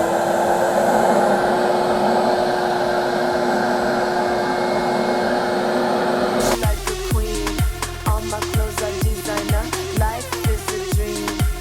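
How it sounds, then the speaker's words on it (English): A carpet extractor's loud, steady vacuum whine runs alone, then a sharp change brings rapid, regular bursts of spraying and sucking with a rhythmic pulsing beat. "Turn the vacuum on, and then this right here is the spray."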